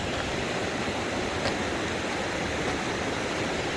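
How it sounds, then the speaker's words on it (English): A small waterfall by a trail bridge on the Ozark Highlands Trail gives a steady, even rushing hiss of falling water, fairly close and constant throughout. "A little waterfall right back up in there coming out."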